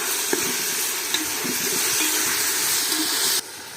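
Chopped tomatoes sizzle and hiss in a pan over a wood-fired stove while quail biryani is being cooked. The frying is loud and steady with a few light stirring clinks, and it cuts off abruptly near the end with no talk.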